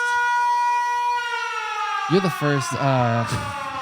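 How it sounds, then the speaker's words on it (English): A steady wailing tornado siren in Oklahoma sounds in the distance, rising and holding its tone, while people begin talking over it near the end. "Is that a tornado siren?"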